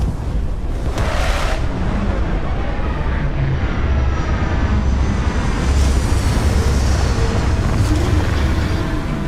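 Spaceship touching down in the game Starfield, a loud, steady roar of engine rumble and rushing thrust filling the whole stretch, with a brief brighter whoosh early on and no talking.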